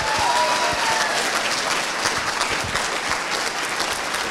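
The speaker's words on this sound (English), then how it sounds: "Guys, big round of applause for Rick" An audience at a celebration event gives a loud, sustained round of clapping, dense and steady throughout, with a few faint cheers mixed in.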